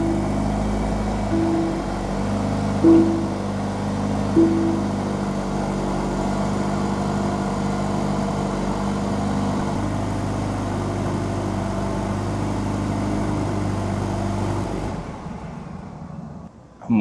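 A Lotus sports car engine starts and settles into a steady, moderately loud idle with a few brief revs early on, then cuts off near the end.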